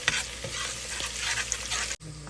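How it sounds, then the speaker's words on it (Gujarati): Onions frying in a pan with turmeric stirred in, a steady sizzle under quick scraping and stirring strokes, cut off abruptly near the end. "પાછું એને તમે સ્ટીર કરો"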